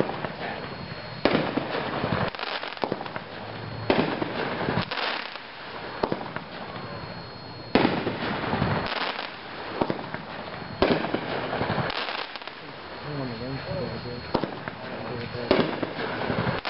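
A Spirit of 76 'Attack' 7-shot firework cake fires outdoors, with sharp, loud launch thumps and crackling bursts at roughly regular intervals, each followed by a short fading tail.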